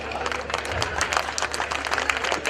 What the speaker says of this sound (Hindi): आपने मेरे सम्मान में बहुत जोरदार तालियां बजाई।